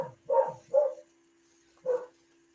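An old dog lets out three barks, a quick pair and then a single one, fairly close over a low steady hum.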